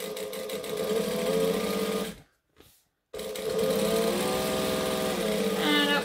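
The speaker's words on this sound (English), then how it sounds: "And we're going to back stitch." A sewing machine runs fast, stitching a tote bag, stops briefly, then back stitches in a second steady burst, with a few small clicks at the end.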